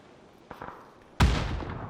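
Grenade blast in PUBG, a sudden loud booming explosion with a rumbling tail, preceded by a few faint distant gunshots.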